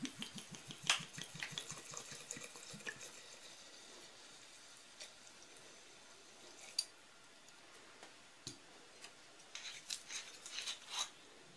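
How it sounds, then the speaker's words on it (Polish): Vodka is poured over coconut flakes in a glass jar to make homemade coconut liqueur. The sound is a faint, close, uneven trickle and patter with a few soft clinks, and no one talks. "Wiórki zalewam wódką."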